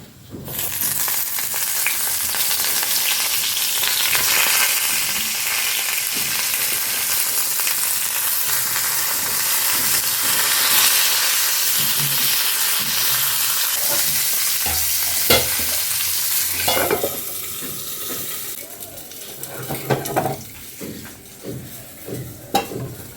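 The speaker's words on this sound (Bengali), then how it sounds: "আর এখানে বেগুনটা ভাজবো" Eggplant (begun) frying in hot oil in a home kitchen, giving a loud steady sizzle with stirring scrapes for most of the clip, then breaking into intermittent spatters and pan clinks toward the end.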